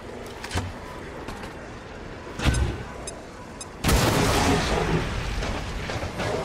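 Incendiary grenade bursting in XCOM 2 battle, a sharp loud whoosh-boom followed by a sustained roaring fiery rush, with a few small clicks before, no talk.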